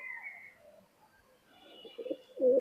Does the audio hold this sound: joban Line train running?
no